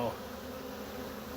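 A honeybee swarm fills the air with a steady, dense buzzing as bees fan their wings, a continuous close drone with no voices.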